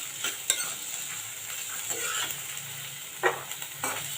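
Pavta (field) beans sautéing lightly in oil in a pan, a soft steady sizzle broken by a few sharp scraping stirs of a spoon against the pan.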